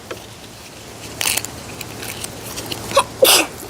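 A short, sharp sneeze bursting out of a quiet room, followed moments later by a second smaller burst, close to the listener with no talk.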